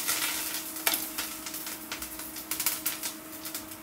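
Curry leaves fry in hot oil for a banana flower dal, giving a close, continuous sizzle broken by rapid, irregular crackles and pops throughout.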